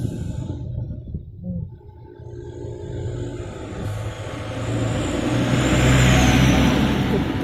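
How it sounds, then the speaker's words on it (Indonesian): A bus drives along a busy road, its engine rumble building steadily from a quieter start to a louder, nearer pass with traffic noise around it. "ini mobil bis."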